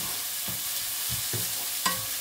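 Onions frying in a pan for egg curry with potatoes, a soft steady sizzle broken by a few brief stirring scrapes and taps, close and without talk.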